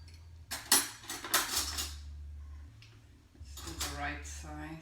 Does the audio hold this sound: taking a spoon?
yes